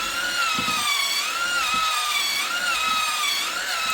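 An electric mixer beats eggs into plum cake batter, a steady loud whirring motor drone with a wavering pitch that runs continuously for the whole stretch, with faint knocking of beaters against the bowl underneath.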